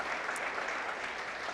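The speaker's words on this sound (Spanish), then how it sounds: "Denle un aplauso al Señor" Steady applause from a church congregation, a dense even patter of many hands heard from a moderate distance, fairly soft and continuous with no clear voices.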